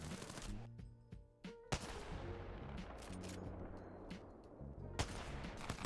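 Weapons fire at targets on the Apex Legends training course, with quiet bursts of gunshots and rapid volleys, some shots sharper and louder than others.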